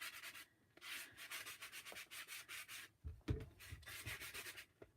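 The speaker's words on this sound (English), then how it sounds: "Poor Chalk Couture, they sat and spent all the time to sand and paint this, and here I am sanding it off." Hand sanding paint off a wooden pumpkin decoration: close, rhythmic rasping strokes in quick back-and-forth bursts, with short pauses and a light knock midway, no talk.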